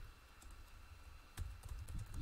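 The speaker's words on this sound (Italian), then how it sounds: "Digitiamo bene." Quick, light keystrokes on a computer keyboard tap in a loose, irregular rhythm, close and quiet against a soft background hiss, with a slightly busier cluster of clicks in the second half.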